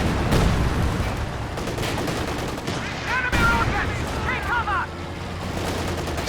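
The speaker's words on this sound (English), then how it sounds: "they also have an 82 and 120 millimeter mortar, which is firing all the way back here" Mortar fire in a Company of Heroes 2 match, 82 and 120 millimeter tubes, heard as a steady, dense layer of battle noise with repeated blasts and chattering gunfire, plus whistling and warbling effects in the middle, all continuous and loud.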